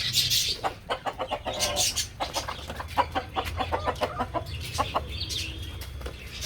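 A rooster and hens cluck in a quick, rhythmic series of short calls, close and fairly loud, with occasional higher squawks.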